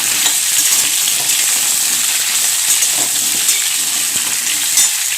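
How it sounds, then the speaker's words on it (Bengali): Pointed gourd (potol) fries in hot oil for a potol-prawn dish, giving a loud, steady sizzle and hiss that runs unbroken throughout, with faint stirring scrapes and no talking. "দেখো পটলগুলো ভাজা হচ্ছে এখনো"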